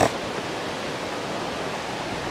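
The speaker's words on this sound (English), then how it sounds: "So this is just a little slow, free-flowing waterfall here" A slow, free-flowing waterfall gives a continuous soft rushing wash, even and unbroken after a brief bump at the start, with no voices.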